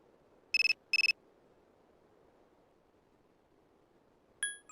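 In the Persona 3 FES video game, a phone rings with two short electronic chimes in quick succession, then near-silence, then another brief tonal ring starts at the end; clean and synthetic, no talk.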